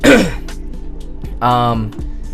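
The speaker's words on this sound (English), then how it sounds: "Sorry, I gotta clear my throat" A man reviewing pinball machines clears his throat with a sharp rasp close to the mic, and a short voiced throaty sound and a quieter murmur follow.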